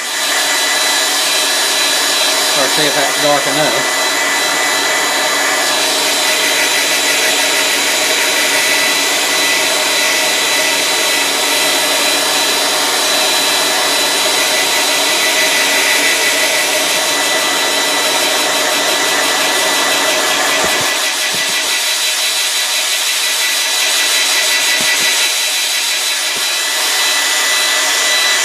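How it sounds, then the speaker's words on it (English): A hair dryer drying paint on a frog jitterbug fishing lure blows continuously with a loud, steady whooshing hiss, briefly under a short spoken phrase near the start. "we'll hit this with a hair dryer"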